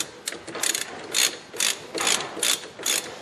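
Wrench ratcheting out a penetrating-oil-sprayed front wheel bearing bolt on a Chrysler 300M, six or seven quick bursts of sharp metallic clicking, close and clear with no talk.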